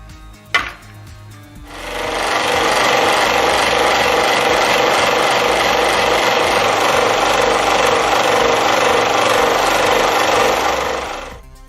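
A click, then a 16-inch flexible-drive scroll saw starts and cuts an elephant shape from wood with a loud, steady buzzing rasp that runs continuously before winding down.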